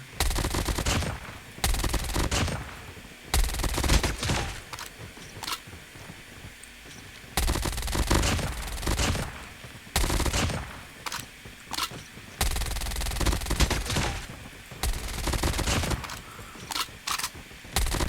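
A MAC-10 submachine gun fires in a video game in long, rapid automatic bursts separated by short pauses, loud and close, with no talking over it.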